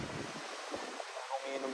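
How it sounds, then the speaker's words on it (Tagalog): Steady broadband wind rushing across the microphone on Boracay, with a faint wash like distant surf underneath and soft voices murmuring in the background. "Lakas ng hangin ah."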